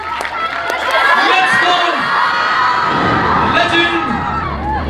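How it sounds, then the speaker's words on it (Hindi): Big crowd of students at a Kota coaching meet-up cheering, whooping and shouting loudly, with excited voices rising and falling through a continuous roar. "आई रिक्वेस्ट जोरदार ताली बजाइए"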